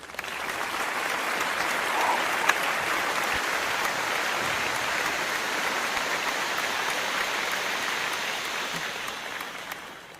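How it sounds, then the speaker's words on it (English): Sustained applause from an audience at a board and committee gathering, a dense steady patter of clapping hands lasting throughout at moderate level with no talking over it. "Let's give her some applause."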